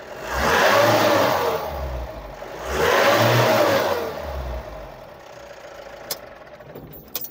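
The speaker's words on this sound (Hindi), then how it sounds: "देखो जैसे मैं एक्सीलेटर दबाता हूँ ना," A car engine revs twice as the accelerator pedal is pressed, each surge rising and falling over about two seconds, then settles to a steady idle with a couple of small clicks near the end.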